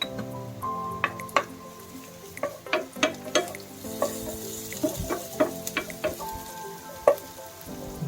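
Garlic sizzles in frying oil while a utensil clinks and scrapes the pan in irregular bursts over a soft crackling hiss, close and clear with no talk.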